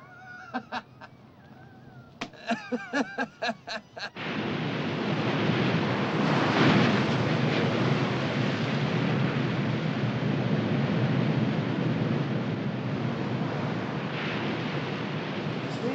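Ocean waves break in a horseshoe-shaped cove on a rocky island shore, a steady loud wash of surf and wind that rises after a few sharp knocks at the start and rolls on continuously.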